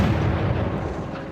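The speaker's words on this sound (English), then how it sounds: "they hear a loud explosion." A loud explosion at the Fukushima nuclear plant reactor, a deep rumbling blast that fills the short moment and fades slightly toward the end.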